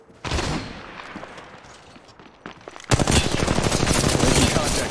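Automatic weapon fire in the mobile battle royale shooter Apex Legends Mobile: dense, rapid bursts of shots, lighter and sporadic at first, then a loud continuous barrage in the second half.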